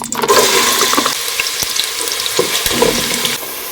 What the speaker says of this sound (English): After preheating it, I'm going to add in 1 large chopped onion, red onion.